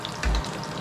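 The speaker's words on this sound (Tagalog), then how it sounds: "Lalagyan natin mantika to para napiprito na yung ibabaw." Crab relleno frying in hot oil, a soft steady sizzle with a brief low thump partway through, close and alone.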